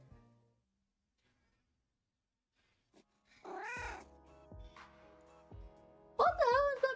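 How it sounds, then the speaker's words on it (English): A cat in an Arknights video game cutscene meows twice, loud and close, after a long quiet stretch, with soft thuds and hollow knocks between the cries. "I mean, it's definitely a cat, yeah."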